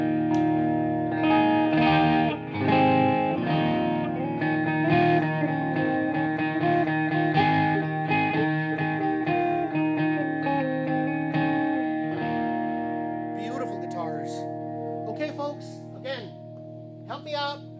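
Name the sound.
electric guitar with amp overdrive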